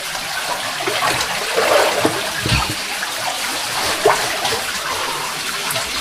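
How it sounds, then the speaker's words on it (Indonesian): Water rushing and trickling through an underground river tunnel beneath a town, a steady close wash with splashing surges and echoing swirls, no talking. "Jadi kita berjalan sendirian menyusuri sungai bawah tanah."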